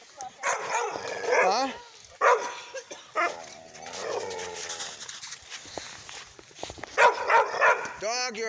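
A dog on a family outing gives short barks and high whimpers and yips in uneven bursts, mixed with people talking nearby.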